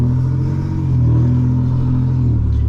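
A deleted and tuned 2019 Ford F-150 with the 3.0 Powerstroke diesel engine revs in a loud, steady, deep rumble that swells slightly partway through and holds without any voices.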